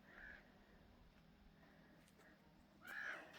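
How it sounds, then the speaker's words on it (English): Ravens squawk on a still evening over a garden, two faint distant caws about three seconds apart against quiet background. "It's such a nice still evening, except for the squawking of the ravens."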